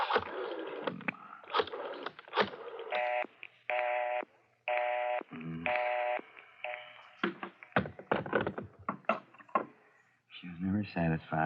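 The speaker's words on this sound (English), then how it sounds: "Dial 9." A telephone being dialed as a radio drama sound effect for a crime series: stepped, steady mechanical bursts, fairly close, sit between stretches of speaking voices, with several separate dialing runs.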